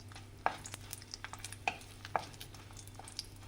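Urad dal and dried red chillies being sautéed in a pan for tomato chutney make faint scraping stirs and soft clicks over a low, steady hum.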